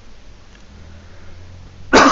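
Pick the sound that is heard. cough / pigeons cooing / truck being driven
cough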